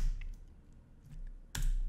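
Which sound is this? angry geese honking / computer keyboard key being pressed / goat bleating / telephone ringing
computer keyboard key being pressed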